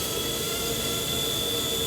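The rotor of a T-Rex 100S RC helicopter spools up, producing a steady, loud, high-pitched whine with a constant airy rush close by.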